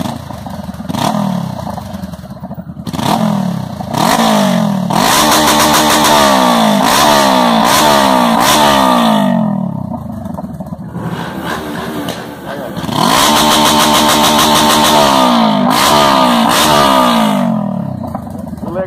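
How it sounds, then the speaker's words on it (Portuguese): A 2018 Honda CB500F motorcycle with a homemade exhaust tip on the stock muffler, revved hard in repeated loud bursts that rise and fall close by, with brief idling pauses between. "nós vamos ouvir o ronco dessa ponteira caseira aqui do Daniel"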